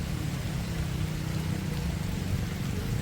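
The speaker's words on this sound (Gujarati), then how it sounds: "હજી વરસાદનું જોર છે." Heavy monsoon rain pours over a flooded farm field in Surat, a dense, steady hiss of falling water that stays loud and unbroken throughout with no voices.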